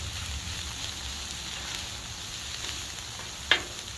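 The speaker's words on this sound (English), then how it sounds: "we're going to get our barbecue pork hot" Barbecue pork warming in a hot pan gives off a steady, soft sizzle that holds throughout, with one brief sharp crackle near the end.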